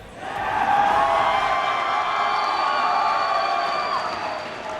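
An esports crowd roars and cheers inside the MLG Anaheim 2013 venue, a sustained, loud wash of voices and whoops swelling early and holding steady before easing slightly.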